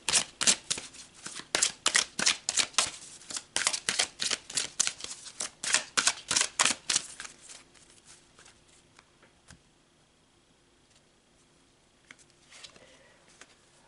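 Rapid riffle-shuffles of a deck of oracle cards, a quick series of crisp flutters that stop partway, followed by quiet room tone.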